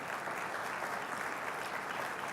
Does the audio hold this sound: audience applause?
yes